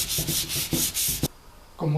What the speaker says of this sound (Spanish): Para lijarlo hay que seguir la línea de la veta.